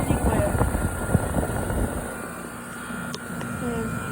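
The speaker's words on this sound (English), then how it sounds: "There's the compressor, and there's the fan motor." A Trane air conditioner's outdoor compressor and fan motor running, a steady mechanical hum and whir with a faint tonal drone throughout, heard close by outdoors.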